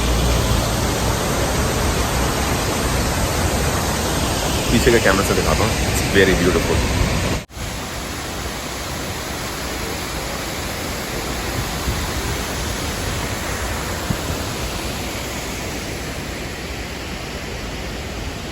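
A high waterfall pours down a mountainside beside the road on the Kochi to Munnar drive, a steady broadband roar that continues throughout, with someone talking over it in the first half.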